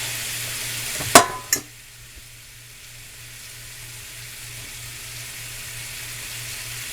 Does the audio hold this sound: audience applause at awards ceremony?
no